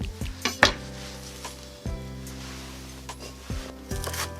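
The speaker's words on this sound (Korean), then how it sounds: "민들레는 먹기 좋게 한 3등분만 해주겠어요" Knife chopping fresh dandelion greens on a cutting board, with a handful of sharp, separate cuts spaced irregularly and close by over a quiet background hum.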